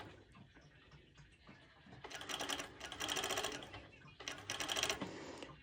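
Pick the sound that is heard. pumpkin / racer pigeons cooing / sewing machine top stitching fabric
sewing machine top stitching fabric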